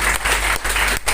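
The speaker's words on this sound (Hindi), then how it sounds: "एक बार जोरदार ताली उनके लिए" A crowd at a business leadership program in Digha gives loud, sustained applause for an upline leader, a thick clapping roar with a couple of brief dips, close and dominant.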